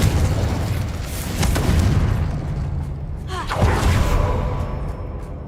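A Confringo fire spell explodes in the video game Hogwarts Legacy, a loud, rumbling boom that swells and rolls on, with a second surge midway.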